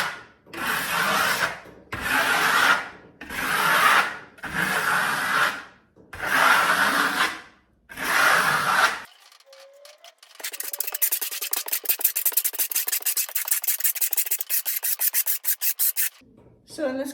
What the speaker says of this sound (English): in this case, I'm using a pretty firm comb trowel